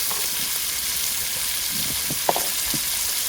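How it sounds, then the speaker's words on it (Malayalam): Onions sauté in roasted coconut oil for a spicy small chicken roast, giving a steady, even sizzle with a few soft stirring knocks, close and uninterrupted, with no talking. "ആ റോസ്റ്റ് ചെയ്ത വെളിച്ചെണ്ണയിലേക്ക് നമ്മൾ ഈ സബോള വാട്ടാള പരിപാടിക്കാം"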